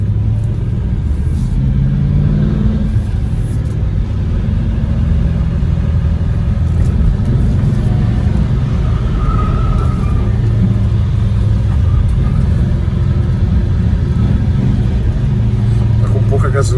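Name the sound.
1969 Chrysler Esplanada car engine while driving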